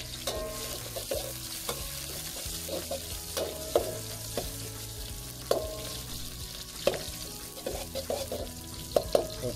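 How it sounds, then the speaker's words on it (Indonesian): Onions sizzle and crackle in oil in a pan, a steady close frying hiss broken by scraping stirs and occasional sharper pops, with no talking. "Oke, jadi saya mau goreng ini bawang sekejap sampai dia wangi."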